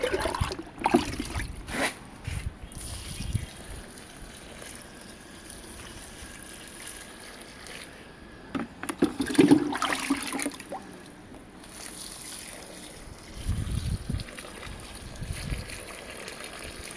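Water is given to a plant potted in a container, heard as intermittent trickling and splashing bursts over a steady background hiss.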